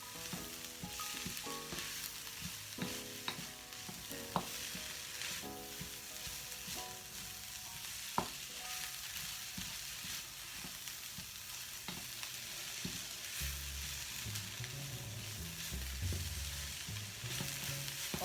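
Sliced cabbage and greens sizzle steadily in a pan for mixed vegetable couscous, a continuous close frying hiss with occasional clicks and scrapes of stirring and a few low thumps near the end.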